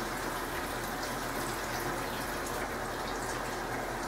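Steady running tap water pours continuously while tofu is rinsed under it in a kitchen, a close, even hiss with no talk.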